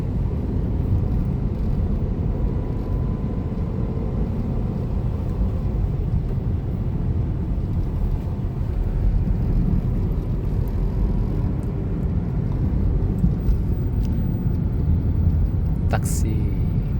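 Steady low traffic rumble around a taxi travelling from Lanang in Davao, a constant engine and road drone filling the whole stretch, with people talking over it and a brief sharper noise near the end.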